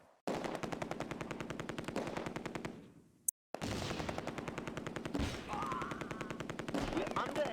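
Sustained machine gun fire from Close Combat: A Bridge Too Far at Oosterbeek, Operation Market Garden: long rapid-fire bursts with a brief silent gap in the middle, then resuming steadily loud, with other shots mixed in.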